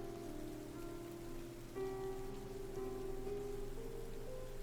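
Steady rain patters evenly in the video game ZENO, with soft sustained musical tones drifting over it and no voices.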